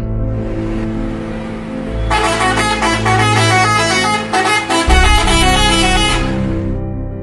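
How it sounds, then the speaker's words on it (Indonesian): Tour buses in a protest convoy, fitted with white flags and banners, sound their horns continuously, with loud overlapping blasts layered over idling and revving engines. "Klakson bus juga terus dibunyikan."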